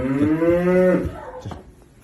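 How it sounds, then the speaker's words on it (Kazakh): A cow moos loudly nearby, one long low call that fades, followed by faint rustling. "Осы сиырлар басын шешеміз, сиырлар далаға шығады"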